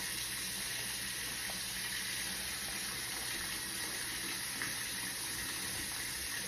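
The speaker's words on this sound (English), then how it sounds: "I am going to go ahead and put my water," Continuous rushing hiss of tap water pouring into a pot, steady and close, with no pauses and no voices.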